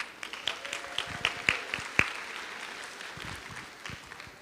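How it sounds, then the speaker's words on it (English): Scattered applause from a conference audience, a thin spread of individual claps that stays fairly faint and thins out toward the end, with no talk over it. "Give her another round of applause."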